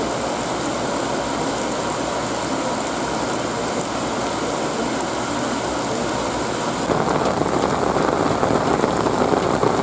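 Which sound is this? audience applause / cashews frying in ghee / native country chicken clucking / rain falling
rain falling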